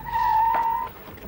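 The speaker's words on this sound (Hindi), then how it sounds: "उसी की गाड़ी की आवाज है।" A short, high tire squeal or engine whine from a car pulling up nearby, lasting under a second before fading into quiet background.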